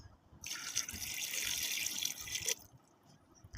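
Water pours steadily from a container into a cooking pot of fresh beef for about two seconds, a close, hissing splash that stops cleanly, with faint kitchen noise before and after.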